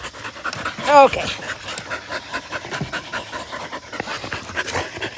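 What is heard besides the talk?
dog panting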